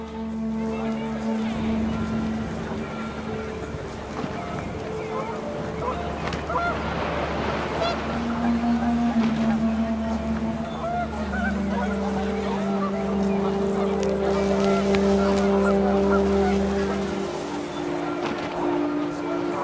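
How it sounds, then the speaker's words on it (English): Panicked geese honk in the video game What Remains of Edith Finch, a steady stream of overlapping honks over wind and ambient noise, continuous and loud throughout. "The wind picked up, and panicked geese appeared and quickly went."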